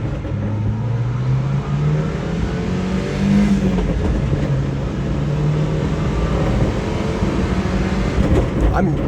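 A 1992 Subaru Sambar 4x4 mini truck with a five-speed manual revs hard while driving, its engine a loud, close, steady drone that swells and settles as the gears carry it up to speed.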